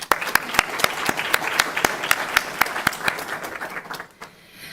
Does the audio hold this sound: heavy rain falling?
no